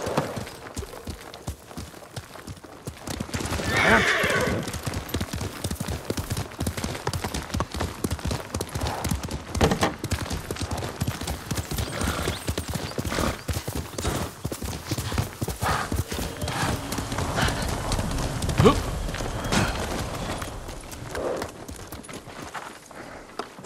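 Horse hooves clip-clopping steadily through a Ghost of Tsushima gameplay scene, with a brief neigh near the start and a continuous rhythmic gait at close range, over ambient game sound.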